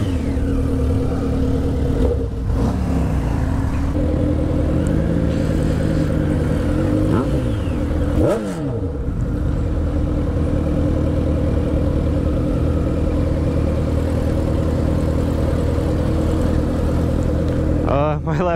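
A Suzuki GSX-R 600 sport motorcycle at a high school senior parade holds a steady, loud engine drone with a few brief revs climbing and falling, while crowd noise and voices run underneath.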